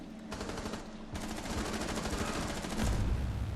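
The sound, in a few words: gunfire in a video game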